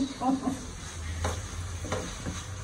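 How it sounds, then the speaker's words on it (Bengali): Bitter gourd frying in a pan, a low steady sizzle broken by a few scraping stirs and light utensil taps, close but fairly quiet. "এখানে করলা ভাজি করতেছি। করলা ভাজি প্রায় হয়ে গেছে"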